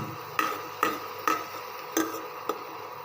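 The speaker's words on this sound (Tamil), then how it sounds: "ஸோ வெங்காயத்தை நல்லா வதங்க விடுங்க." Onions cook in a pan, a spoon stirring them with a steady series of soft, evenly spaced taps and scrapes over a faint background sizzle, close by and with no talk.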